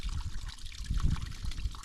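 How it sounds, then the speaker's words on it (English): Water trickling from a spring water mine into a holding tank on a mountain farm in central Portugal, a close, continuous gurgling and dribbling flow with no talk. "So the water flows into here, this is the holding tank, and then flows out and it should go into the pond"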